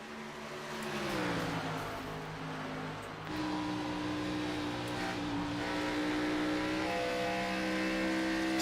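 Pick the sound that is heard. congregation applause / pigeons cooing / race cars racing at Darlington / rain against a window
race cars racing at Darlington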